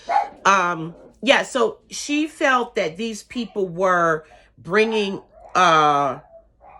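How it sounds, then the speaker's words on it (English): A pet dog barks and yips repeatedly close by in a home, the barks mixed in with a person talking over them. "Sorry, that's my dog."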